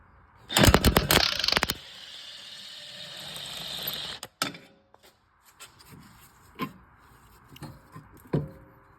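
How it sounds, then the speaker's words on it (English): Impact wrench rattling in a loud burst on the rear shock bolts of a Ford Escape, then several shorter, fainter clicks and knocks as tools and parts are handled underneath the vehicle. "we're going to move underneath with an impact here"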